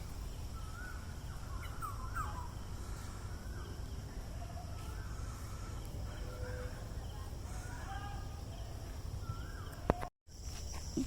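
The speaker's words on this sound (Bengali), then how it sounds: "জাতীয় উদ্ভিদ উদ্যানের এই এলাকায় ঝিঝিপ পোকার শব্দ" Crickets keep up a continuous high, thin trill in a national botanical garden, with faint scattered bird calls and caws over a low steady outdoor background, ending in a brief cutout.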